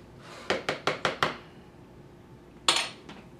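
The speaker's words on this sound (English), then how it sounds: "we're going to add our last tablespoon of clay" A level tablespoon of clay is scraped and tapped against a bowl while the runny mixture is stirred, giving five quick, evenly spaced clinks of metal on a dish, a pause, then one sharper knock and a fainter tap.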